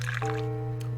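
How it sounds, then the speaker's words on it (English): A character urinates into a toilet in The Cat Lady video game, a brief liquid trickle and drip over a steady low hum, lasting about a second and fairly faint. "That was the weakest piss I've ever heard."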